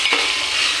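Whole garam masala spices frying in hot oil in a wok, a bright continuous sizzle up close with one quick stirring scrape at the start.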